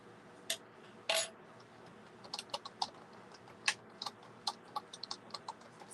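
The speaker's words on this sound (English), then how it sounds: "Sorry if you can hear me typing." Keys clatter on a computer keyboard in quiet, irregular bursts of light clicks, with a couple of sharper taps near the start, close and fairly soft.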